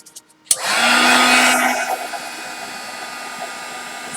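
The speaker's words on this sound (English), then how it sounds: "I'm going to heat set this real quick." A heat tool switches on with a sharp click and roars into a loud, steady blowing whine, held close by while it sets clear gesso on a paper layout, with no one talking.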